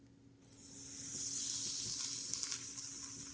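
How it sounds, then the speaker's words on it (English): Crystal cat litter fizzes as it soaks up water tinted with food coloring, a steady close broadband sizzle that swells after a quiet start and holds with faint crackles. "you can hear that it actually sizzles a little bit as it's absorbing all of the liquids"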